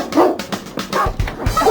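A pet dog named as a training case, barking and yipping in short repeated bursts, fairly close and loud, with some whimpering sounds mixed in.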